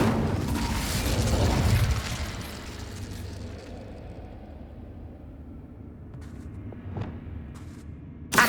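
A fire spell cast in Hogwarts Legacy on PS5 bursts out loud in a broad whooshing flare, then trails off into a low rumbling tail, with a couple of faint pops near the end.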